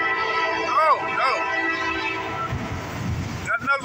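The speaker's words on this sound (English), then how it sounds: "There goes Southbound CSX." A southbound CSX freight train passes with its horn sounding, loud wavering horn tones over a steady rumbling roar of rolling cars, close by, with a voice briefly heard near the end.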